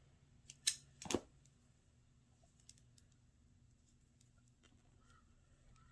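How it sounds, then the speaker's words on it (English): Scissors snip crochet yarn to fasten off, two quick close crisp cuts near the start, then quiet with faint handling clicks. "I'm going to chain 2, pull up a loop and cut, and then tighten that knot."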